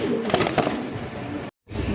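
A pair of red magpie pigeons coo in short, soft, repeated calls up close, over a murmur of background noise that cuts out for a moment near the end.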